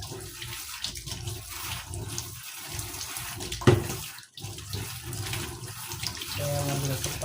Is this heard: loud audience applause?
no